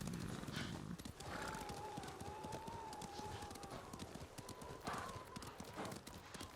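Horse hooves clip-clop at a steady riding pace in the video game Ghost of Tsushima, a quick rhythmic patter with a whinny rising over it, fairly faint throughout.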